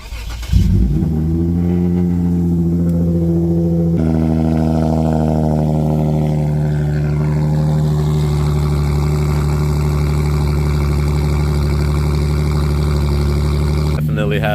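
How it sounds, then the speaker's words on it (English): A Lexus IS 250 with a ported exhaust manifold cold-starts close up, with a cranking burst, a loud high-revving catch, then a steady idle that gradually settles lower, and someone talks briefly over it. "let's get a cold start"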